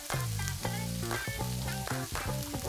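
Onions, red peppers and zucchini frying in extra virgin olive oil in a sauté pan over medium heat, a steady close sizzle with repeated clattering strikes as the vegetables are added and moved, no voices.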